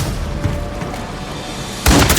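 Enemy gunfire in the video game Call of Duty: Modern Warfare III, a low rumbling battlefield bed that erupts into a loud, dense burst of shots near the end.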